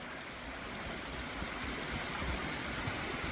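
Steady broadband rush of falling water, continuous and full, like a canyon waterfall heard from nearby across a creek, with no other sounds.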